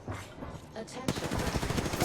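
Rapid automatic gunfire in the Apex Legends battle royale game, a dense burst of shots following a quieter stretch of game sounds and faint voice chat.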